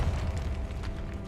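A Bombarda spell blows up near an altar in Hogwarts Legacy, a deep continuous booming rumble that stays loud for the whole short moment.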